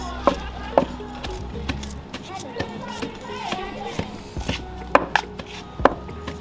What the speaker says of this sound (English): I'm used to cutting with my hands without chopping board